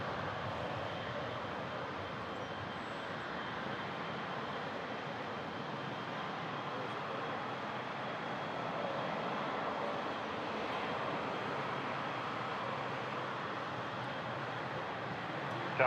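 Aircraft taking off from runway 23 at Toronto Pearson airport, a steady broadband engine roar held for the whole stretch at moderate distance, with no voices.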